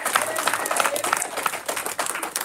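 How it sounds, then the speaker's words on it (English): A church congregation claps in praise during a worship service, a dense, steady patter of many hands throughout, with a few voices mixed in. "Give God a hand clap and praise."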